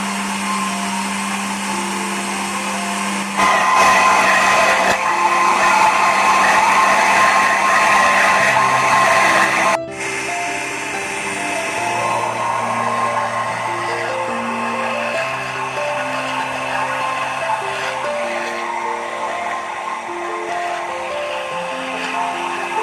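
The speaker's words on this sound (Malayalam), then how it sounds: "നമ്മുടെ ലസ്സി നമ്മൾ മിക്സിയിൽ അടിച്ചെടുക്കുകയാണ്" A kitchen mixer grinder blends papaya lassi with ice, running as a loud continuous whir that changes pitch partway through and keeps going steadily.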